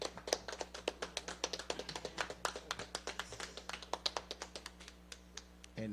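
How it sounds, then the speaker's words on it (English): A small handful of people clapping for performers at a live talent show, around forty sharp, close claps in a fairly steady rhythm that slows and thins out toward the end. "Y'all give a shout out to everybody that performed."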